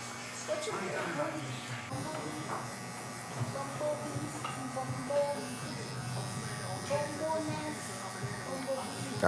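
An electric hair clipper buzzes steadily while a taper is blended in a barbershop. The clipper hums throughout under a man's ongoing speech.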